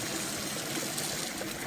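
Water runs steadily from a source pipe onto an ice stupa, a continuous broadband rush like a stream or trickle, fairly close and even throughout with no voices.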